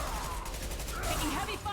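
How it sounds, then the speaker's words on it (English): A concussive shot is fired in the Mass Effect video game amid a dense, loud battle din, with a voice-like tone rising over the blast near the end. "Firing concussive shot!"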